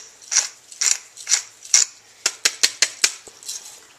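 A pepper grinder grinds pepper over a dish of swai in white wine sauce in a home kitchen, giving a series of dry, rhythmic grinding crunches. They start as slower twists and turn into quicker clicks, close up with no talking.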